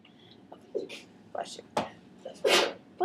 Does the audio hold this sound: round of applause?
no